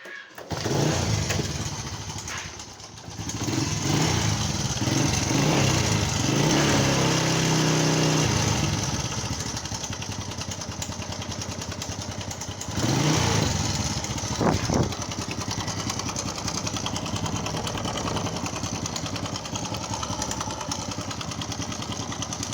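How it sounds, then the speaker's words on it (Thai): An engine runs steadily for the whole stretch, a loud rough motor drone with a couple of brief revs rising and falling partway through. "เรามาฟังเสียงเครื่องกันก่อนนะครับ"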